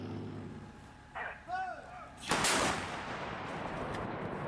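Ukrainian artillery strikes a Russian vehicle: faint whistling tones are followed by one heavy, distant blast and a long rumbling decay.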